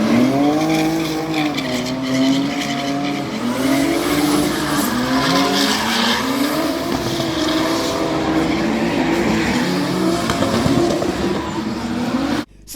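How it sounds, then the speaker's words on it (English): Six or seven cars tandem drifting together on a race track at Kings Lynn, engines revving loudly and rising and falling continuously with tyre squeal throughout, close and dense, cutting off abruptly at the end. "they put about 6 or 7 cars on at the same time, and you get proper tandem drifting"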